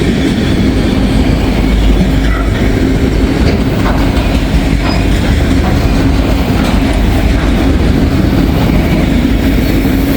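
Trains rumble loudly across a very old railroad bridge, carrying a mix of empty and loaded rack cars, with continuous clickety-clack wheel noise, close up and without pause.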